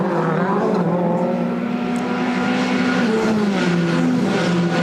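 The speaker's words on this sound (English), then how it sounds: "Down the straight they race as Thiago Montero's coming in" WTCC touring race cars at the 2012 Morocco round scream down the straight, a loud sustained engine drone shifting pitch as the cars pass, continuous for several seconds with no talk.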